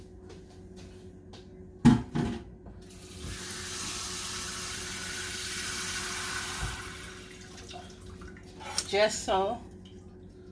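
Water runs from a kitchen tap for several seconds at moderate volume while cooking a shrimp Alfredo sauce, a steady gush between brief clatters, with someone talking before and after.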